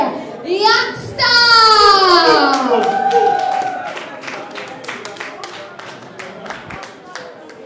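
Audience applause and cheering for a reggae dancehall artist at a live stage show, a loud burst of clapping that swells quickly, then slowly fades under a sung announcer voice and crowd noise.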